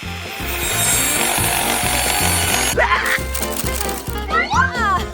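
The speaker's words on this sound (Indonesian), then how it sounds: "Cepat dan mudah dilakukan dengan gergaji." A hand saw cuts the spines off a cactus in steady rhythmic rasping strokes, close and fairly loud, with rubbing and scraping as the blade works.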